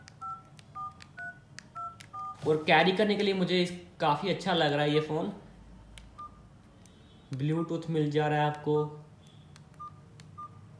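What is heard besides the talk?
keypad button tones on an iPhone 14 Pro Max clone phone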